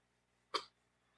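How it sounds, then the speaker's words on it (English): A single short, sharp cough bursts out once in a quiet room, close and brief, with near silence before and after. "It's you coughing."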